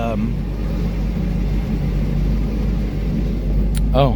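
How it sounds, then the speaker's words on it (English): A 1994 Chevrolet Corvette LT1 with a six-speed manual idles with a deep, steady exhaust rumble that stays loud and close throughout, with a voice briefly audible near the end. "I can demonstrate this with the exhaust systems"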